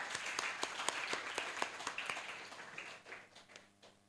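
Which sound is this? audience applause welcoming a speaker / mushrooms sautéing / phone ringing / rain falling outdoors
audience applause welcoming a speaker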